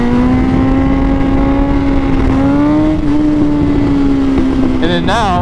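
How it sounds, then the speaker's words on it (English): A motorcycle engine revs hard and climbs through a second gear clutch-up wheelie, a loud close steady drone that rises in pitch before easing off at the end. "I'll show you guys real quick a second gear wheelie compared to a third gear wheelie"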